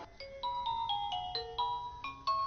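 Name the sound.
mobile phone ringing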